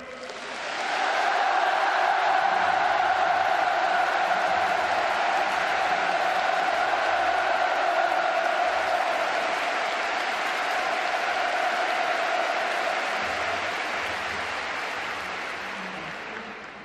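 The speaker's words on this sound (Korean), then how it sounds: "우리 모두 문재인 대통령에게 열광적인 박수와 열렬한 환호를 보내줍시다." Huge crowd of Pyongyang citizens at a mass rally for a visiting South Korean president breaks into sustained, loud applause and cheering, a dense roar that swells quickly and holds steady for the whole stretch before easing slightly at the end.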